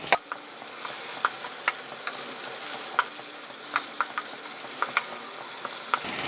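Ginger sautéing in a pan for butter paneer masala gives a steady close sizzle, broken by sharp spatula taps and scrapes at irregular intervals, with no voices.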